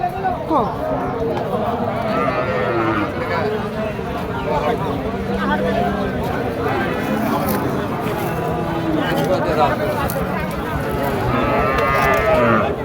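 Cattle at a village livestock market in Bangladesh, with a black bull among them; occasional moos rise over dense crowd chatter and bargaining voices throughout, steady and busy.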